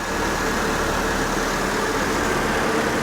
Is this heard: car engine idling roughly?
yes